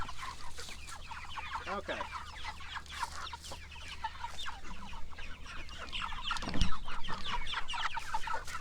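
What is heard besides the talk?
pastured poultry chickens clucking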